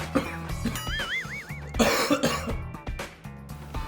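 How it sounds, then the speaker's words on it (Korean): Repeated coughs and throat clearing, fairly close, in short bursts brought on by spicy chili oil while eating soft tofu stew, over a backdrop of music with a wavering tone. "고추기름의 매운맛 때문인지 기침이 자꾸 나옵니다."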